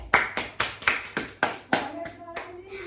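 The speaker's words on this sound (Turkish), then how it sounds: "Video izleyen herkes beni bir alkışlasın." A child claps hands about nine times at a steady pace after a basketball game, sharp close claps that slow and soften toward the end.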